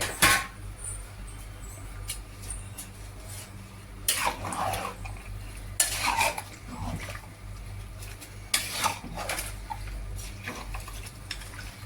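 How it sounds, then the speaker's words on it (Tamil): Half-hour-soaked rice is stirred in a pot, with repeated wet scraping and sloshing bursts and occasional clinks of the spoon against the metal, close by over a steady low background hum. "அரிசி உடையாமல் மிக்ஸ் பண்ணணும்."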